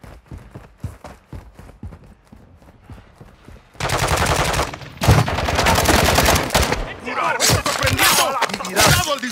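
Gunfire in the Warzone video game starts as light scattered pops, then breaks into loud sustained automatic bursts and heavy rapid shots lasting several seconds, with a voice speaking amid the shooting.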